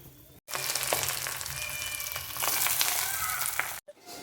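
Fried rice with cashews and raisins sizzling and being stirred in a hot pan, a steady loud crackling hiss broken by a short pause near the start and another near the end, with no talk.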